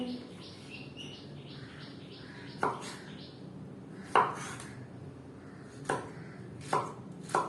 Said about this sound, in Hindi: उसके बाद इसको हम छोटे पीसेस में काट लेंगे।